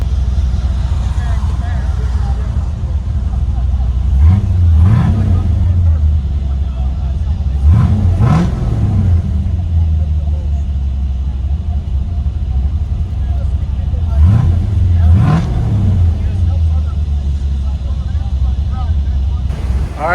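From inside the cabin of a 1969 Corvette V8 with a Borla Atak exhaust, a loud, steady low rumble is broken by four sharp revs in two pairs, close and full.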